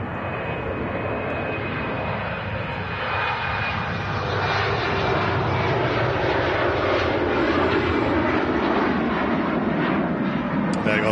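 A Portuguese Embraer 190 jet departing Manchester Airport for Lisbon roars loudly and steadily, building slightly in strength over several seconds.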